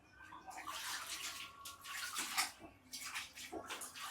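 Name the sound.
rinsing a plain t-shirt in clean water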